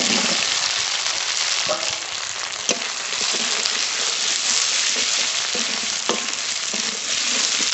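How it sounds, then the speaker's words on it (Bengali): Fried potatoes cooking with ground cumin, ginger, dried chilli and spices give off a loud, steady sizzle, with occasional sharp crackles and stirring scrapes. "আলুর সঙ্গে মশলা ভালো করে কষিয়ে নিয়েছি"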